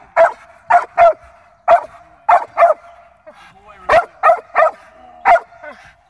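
A small dog yaps in quick bursts, a dozen sharp close barks in uneven clusters with brief pauses between them.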